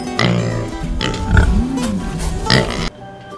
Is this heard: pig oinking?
yes